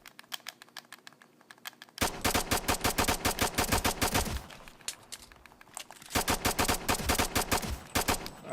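Rapid automatic fire from an ACR rifle on a firing range in the Ghost Recon Future Soldier game, loud sustained bursts that stop briefly midway and then resume at full intensity.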